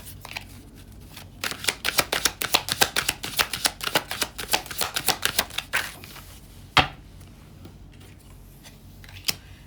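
Tarot cards riffle and snap in a rapid burst of crisp clicks as the deck is shuffled, followed by a few isolated card taps and slaps, close and fairly quiet with no talking.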